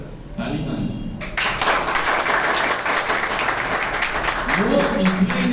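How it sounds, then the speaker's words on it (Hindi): An audience claps in a steady burst of applause that swells after a second and keeps going for several seconds, with a voice heard under the clapping. "ताली मार"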